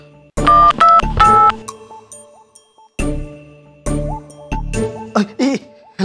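A string of short two-tone keypad beeps as a phone number is punched in, loud and close, with quiet gaps and a few isolated tones later.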